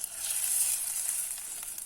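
Hot mustard-seed tempering is poured into breakfast batter and gives a steady, hissing sizzle that stays bright and even, fairly soft and close, with no one talking.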